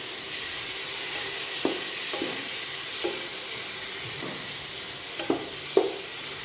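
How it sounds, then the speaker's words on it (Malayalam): Tomato fries for biryani in a pan, giving a steady loud sizzle with occasional scrapes and clinks as it is stirred, a few sharper knocks near the end, and no talking. "നമ്മളിതിലേക്ക് ടൊമാറ്റോ ആഡ് ചെയ്ത് കൊടുക്കാം. പിന്നെ അതും കൂടി ഒന്ന് ജസ്റ്റ് ഒന്ന് ഇളക്കി കൊടുക്കാം."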